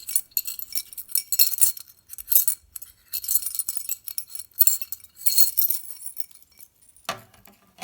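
Pieces of broken glass are handled and shifted, giving bursts of bright, tinkling clinks and scrapes in irregular clusters with short pauses between, close up and with no voices.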